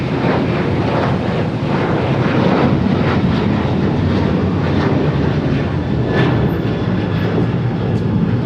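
A Boeing 737-800 airliner takes off from runway 25 right at LAX, its engines giving a loud, steady, broadband roar that holds without a break and carries wind buffeting on the microphone.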